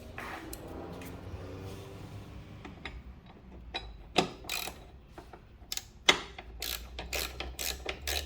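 A ratchet tightens floorboard bolts on a Can-Am Ryker, giving bursts of rapid clicking in uneven spurts with a few sharper knocks between them, close and fairly loud.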